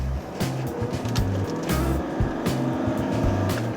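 Low droning diesel engine hum heard from inside a 2014 Honda City, steady and fairly loud, with rhythmic low throbbing and road noise.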